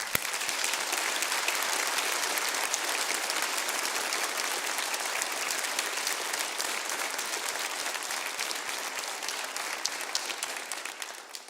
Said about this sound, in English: Please give her another round of applause.